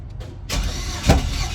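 An LS-swapped G-body El Camino with a 5.3 V8, 243 heads, an LS6 intake and a fuel-delivery problem cranks briefly, then catches and roars into a rough idle, close and loud.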